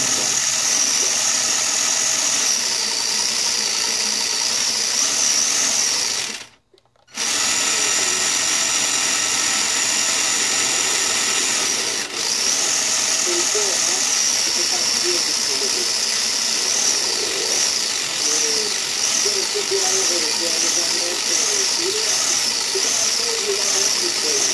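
Custom 4-link, 4-wheel-drive, 4-wheel-steer RC monster truck on jack stands, a loud continuous high electric whine under throttle that drops out briefly, then returns and wavers as the wheels steer.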